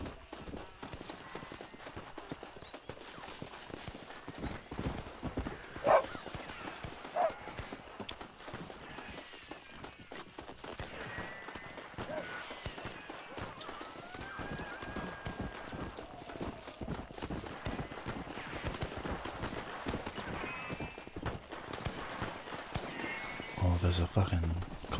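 Horses gallop in the Red Dead Redemption video game, a steady rapid clip-clop of hooves lasting the whole stretch, with a faint whinny and a voice talking over it.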